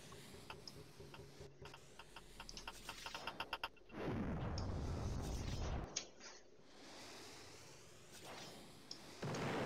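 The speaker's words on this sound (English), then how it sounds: "This is now just a missile shoot-off." Missiles trading between bases in Tower Wars: a run of rapid ticking launches followed by loud whooshing blasts and booming impacts, with quieter game noise afterward.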